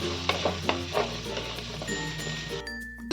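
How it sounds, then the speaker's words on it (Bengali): Potatoes and green peas fry in a pan with a close, bright sizzle, punctuated by rhythmic stirring scrapes and clinks of a spatula early on, then a steadier hiss. "আলু আর কড়াইশুটিটাকে নাড়াচাড়া করে নিচ্ছি"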